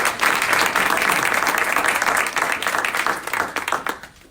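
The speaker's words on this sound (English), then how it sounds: "Let's give him another warm round of applause." A warm round of crowd applause at a religious lecture, loud and full at first, then thinning into scattered claps as it fades out near the end.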